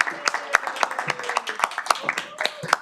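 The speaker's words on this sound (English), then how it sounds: "Give her a big round of applause." Scattered clapping from a small group in a committee session room welcoming a new senator, with distinct, uneven claps close by and a voice murmuring underneath.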